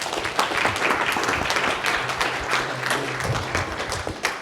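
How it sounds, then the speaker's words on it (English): Warm round of applause from a conference audience for a panel on cloud FinOps, dense, continuous clapping filling the room at a steady level throughout. "let's give them a warm round of applause"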